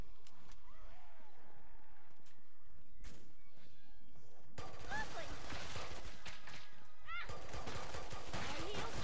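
Machine gun fire in the shooter Killing Floor 2 comes in two loud, dense bursts of rapid shots, the second louder and longer, with quieter game noise and voices between them.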